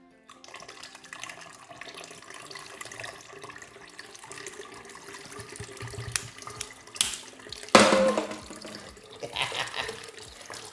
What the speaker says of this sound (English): Now let me grab some water.